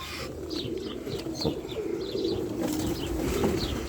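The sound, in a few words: pigeon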